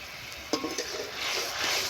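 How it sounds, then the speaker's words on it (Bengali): Spice paste sautéing in oil for mustard pabda fish curry, a steady soft sizzle with a spoon scraping and stirring in the pan, a few light clinks and a brief stir swell midway, no voices. "একটু কষে নেব।"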